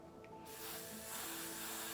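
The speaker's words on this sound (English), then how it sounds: "I'm gonna spray just a dab in the middle just so this could stay right here at this point" An aerosol spray hisses onto a lace front wig, a soft steady burst that starts abruptly and continues close and even for over a second.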